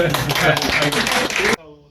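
An audience at a Cheonho-dong Moa Town committee launch ceremony bursts into brisk, close clapping for about a second and a half, mixed with a voice, then cuts off abruptly into quiet.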